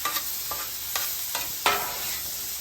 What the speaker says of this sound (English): It's crucial that you keep turning your sweet potatoes, okay?